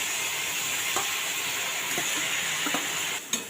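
Boiled cluster beans tipped into spices frying in a pan and stirred: a steady sizzle and hiss throughout, with a few soft scraping knocks of the spoon against the pan.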